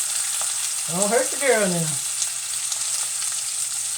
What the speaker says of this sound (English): That grease will pop way up in your face